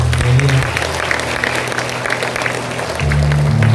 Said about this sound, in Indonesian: Tepuk tangan sekali lagi untuk